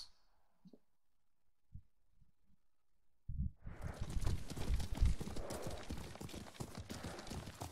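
Horse hooves clip-clop in the Ghost of Tsushima video game, starting after about three seconds of near silence with a few faint taps, then a brisk steady gallop rhythm, loud and close.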